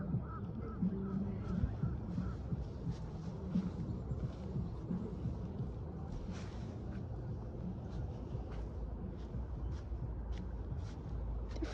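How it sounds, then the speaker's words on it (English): Geese honking as a flock flies up outdoors, with calls coming in many short bursts over steady background noise across the whole stretch. "Here goes birds."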